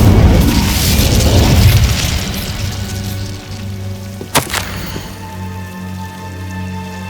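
The Incendio fire spell is cast in Hogwarts Legacy, with a loud rumbling whoosh of flame that fades into a low hum, then a sharp crack and lingering tonal ambience.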